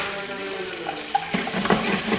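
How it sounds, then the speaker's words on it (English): Garlic and onions sizzle and brown in a pan while being stirred, a close, steady frying hiss broken by light scraping and clinks of the utensil against the pan. "Once you guys add the garlic in, you just want to stir it and brown the onions and just combine everything."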